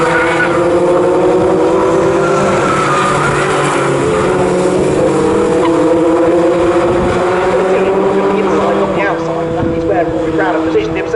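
A pack of BRSCC Fun Cup race cars runs nose to tail through the corners at Snetterton circuit, their engines a loud, sustained, overlapping drone that swells and fades slightly as they pass.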